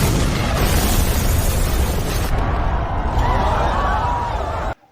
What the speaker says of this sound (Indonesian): di saat bom akan meledak